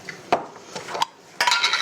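A knife cuts local bell peppers into thin strips on a board, giving a few sharp close knocks and clicks in quick, uneven succession, with no voices.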